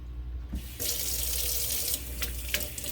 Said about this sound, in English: And now I'm going to rinse the conditioner out.